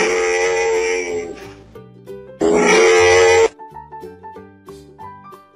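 A loud, harsh braying grunt from a camel, sounding twice in long rough bursts over a soft melodic backing tune.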